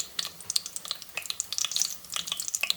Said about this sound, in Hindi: तो ये हम लोग चिकन इसके अंदर ऐड कर देंगे सारा का सारा।